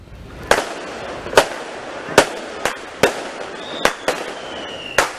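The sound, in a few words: firecrackers and fireworks exploding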